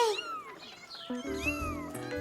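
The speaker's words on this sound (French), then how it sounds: "Caillou avait peur du chat en colère. Gilbert n'avait jamais craché comme ça après lui." An angry cat yowling and meowing in short, rising and falling cries, close by and fairly loud, with no talking.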